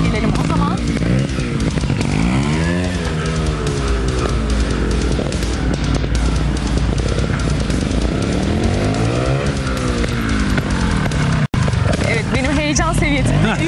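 A motocross motorcycle engine revs loudly and continuously, its pitch sweeping up and down in repeated surges, with someone speaking over it in a live broadcast setting.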